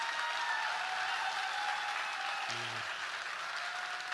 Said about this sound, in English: Can we get a little applause for stirring as well,